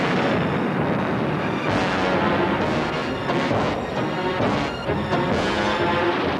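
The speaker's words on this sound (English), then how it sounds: "With the touch of the finger on the stick, a camera and 8 machine guns are put into action." The eight wing-mounted machine guns of a WWII fighter aircraft firing, a dense, loud, continuous roar of rapid gunfire and rumbling blasts throughout.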